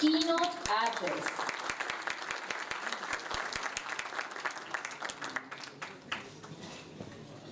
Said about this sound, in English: Please join us in welcoming and giving a round of applause